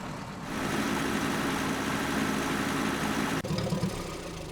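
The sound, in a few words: tractor engine running in DayZ video game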